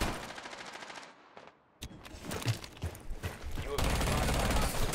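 Rapid automatic fire from the new Ela's gun in a video game, in bursts that drop out briefly near the middle and then resume with sharp, dense rattling, with game noise under it.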